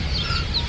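Chickens cluck at Erragadda market, a brief burst of close, throaty clucking over a low background rumble.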